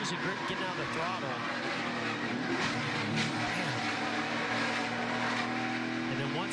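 NASCAR race car engine at a racetrack, the driver lifting off the throttle as the car loses grip, a loud continuous roar with shifting pitch under steady commentary, other cars droning in the background.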